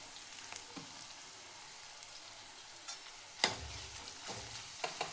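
Garlic and green chili fry quietly in oil for a cauliflower curry, a faint, low sizzle with scattered soft clicks and one sharper utensil knock near the middle.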